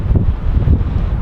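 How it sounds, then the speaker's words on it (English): Wind blows outdoors, buffeting the microphone in loud, gusty, low rumbles that rise and fall for a moment, with no voices. "But you can hear the wind."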